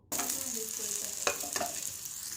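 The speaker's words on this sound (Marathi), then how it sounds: "कांदा मस्तपैकी आता लाल बडक भाजून घ्यायचा" Onion frying in a pan for a breakfast of eggs and rice, with a steady close sizzle and a couple of sharp stirring scrapes partway through.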